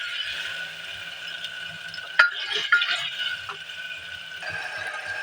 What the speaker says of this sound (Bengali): এবার দিয়ে দেবো টমাটার কুচি